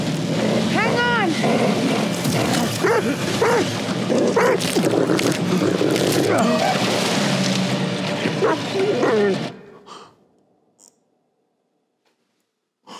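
A dog in The Devil in Me video game barks, yips and whimpers amid a busy mix of speech, engine and water noise, then the scene cuts out to near silence with a couple of faint late sounds.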